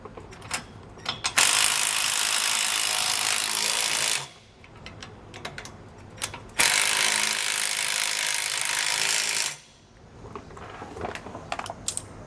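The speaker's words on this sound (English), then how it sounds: "We're going to grab a 19mm socket and wrench and snug those down." A ratchet wrench with a 19mm socket snugs down shock mounting bolts on a 2015 Grand Design Momentum RV during a Roadmaster Comfort Ride suspension install, with two long bursts of rapid clicking separated by quieter handling noises.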